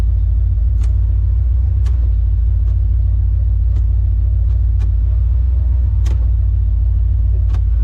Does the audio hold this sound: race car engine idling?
yes